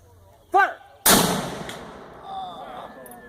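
A cannon fires once with a single loud, sharp blast that decays into a long rolling echo outdoors. It comes right after a shouted command, and another voice speaks faintly near the end.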